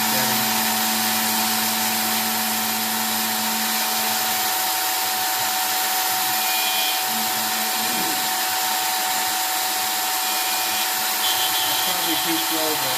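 A JetCat PHT3 turbine engine on a tailboom mount running steadily with a loud, continuous hissing whine and a sustained tonal hum, unbroken throughout with faint rattles underneath.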